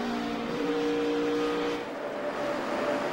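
NASCAR stock cars at the 2009 Coca-Cola 600, a steady loud roar of engines droning with sustained tonal whine, continuous through the whole stretch with no talk.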